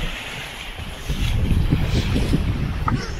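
A trawler boat moves on a river in the rain, giving a rough, continuous rush of water and wind with a low engine-like rumble building after the first second, loud and close.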